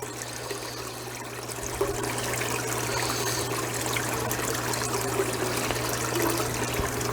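Water pours continuously into an aquarium during a water change, a steady close splashing trickle over a constant low electrical hum, with no talking.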